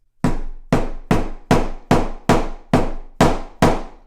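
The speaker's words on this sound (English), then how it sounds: "hammer it in place" Eight sharp hammer blows in a steady, even rhythm, loud and close, each ringing briefly before the next strike.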